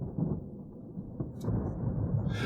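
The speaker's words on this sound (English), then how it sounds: "I swear that thunder sounds like it's actually outside." Low rolling thunder in the horror game Darkness Within, a deep sustained rumble that swells in uneven waves with a few sharper cracks, with no voices over it.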